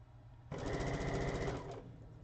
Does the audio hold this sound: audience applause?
no